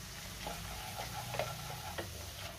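Gram flour (besan) roasts in a pan with ginger-garlic, a soft continuous sizzle with light scraping taps from a spoon stirring it, faint and close.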